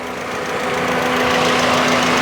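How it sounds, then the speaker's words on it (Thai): A 2008 Toyota Vios engine being revved while accelerating, giving a steady, loud mechanical drone with a low hum that swells slightly over a couple of seconds and has no voices over it. "นี่ฮะเวลาเร่งก็ถือว่าเสียงปกตินะเห็นไหม"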